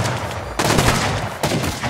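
Bursts of gunfire in Rust, sprayed at a single window: two loud volleys, one starting just past half a second and another near one and a half seconds, close and harsh with no talk over them.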